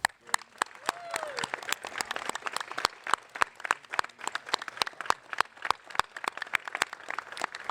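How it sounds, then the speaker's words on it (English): Scattered audience applause in a school-community gathering as people turn to honor their parents, sharp claps ringing out individually over a thin crowd wash with faint voices underneath. "Turn around and give them a round of applause."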